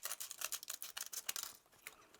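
Scissors snipping around a foil-covered heart for a Valentine's craft, a quick series of soft, crisp cuts in an even rhythm, close and quiet.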